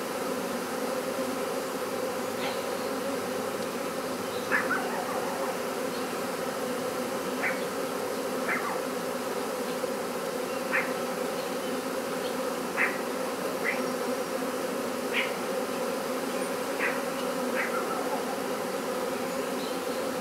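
Steady, dense buzzing of a honeybee swarm close by, a continuous drone with occasional louder passes of individual insects.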